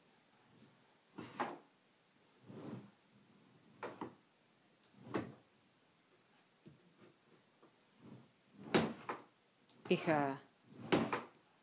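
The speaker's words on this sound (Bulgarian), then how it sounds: "дърпа чекмеджето" A child yanks a household drawer open and shut again and again, each pull a short wooden clatter spaced a second or so apart, with an adult and child voicing in between.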